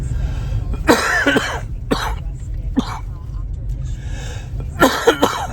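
Several harsh coughs from a man with a lingering cold burst out in short clusters, close to the mic, separated by quiet gaps with low background rumble.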